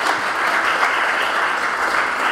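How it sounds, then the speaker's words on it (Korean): A congregation at a Korean graduation ceremony claps steadily, a dense, loud, even wash of applause from the whole room with no break. "우리 하나님께 영광의 박수 돌려드립니다"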